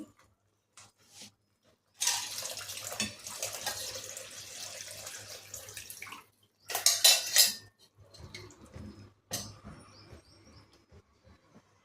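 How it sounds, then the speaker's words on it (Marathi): Water poured into a pan of cooked masala for dhaba-style butter chicken gravy, a close splashing and sizzling burst amid clinking utensils, loudest early then fading into intermittent kitchen clatter and a short rattle. "आता ह्याच्यात ॲड करूया आपण पाणी."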